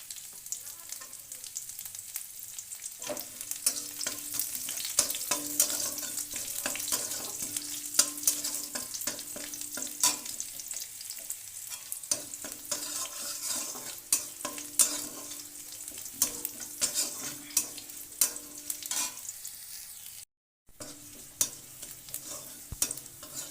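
Chopped garlic sizzles steadily in a hot pan for an eggplant dish, with repeated scraping stirs over the frying hiss and one brief dropout near the end; no one talks.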